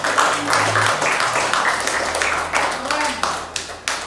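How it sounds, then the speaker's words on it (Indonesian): An audience at an Indonesian teachers' good-practice dissemination event claps for the discussion speakers, a loud, steady wash of applause with faint voices murmuring underneath. "Boleh kita tepuk tangan kepada narasumber kita"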